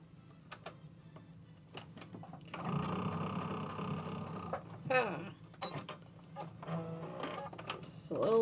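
A sewing machine stitches a table runner in short bursts, a fast mechanical whirring and ticking that starts and stops between quieter handling noises.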